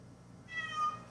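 A house cat named Doodle gives a single short, clear meow of about half a second, close by and alone with no talking.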